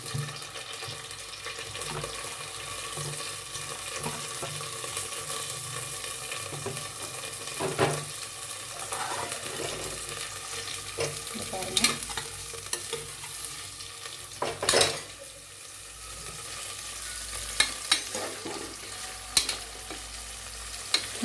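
Chopped onions sautéing in a pan with popped mustard seeds for a mutton dish, a steady moderate sizzle with occasional sharp clinks and scrapes of stirring, no speech.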